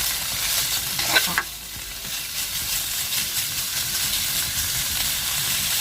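Stirring in hot oil in a pan for bamboo shoot mok, a loud continuous sizzle and hiss with a brief scrape of the stirring utensil near the start, no talk.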